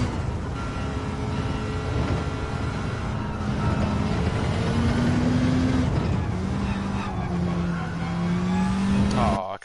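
Gr.B rally car on racing hard tires in Gran Turismo 7, its engine climbing and dropping in pitch through the gears with a loud steady drone and brief tire squeal, while a person talks over it.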